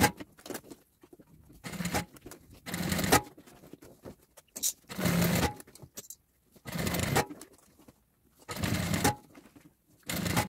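Sewing machine stitching a three-compartment baby diaper bag, running in several short bursts of whirring separated by quiet pauses, close and moderately loud, with no voices.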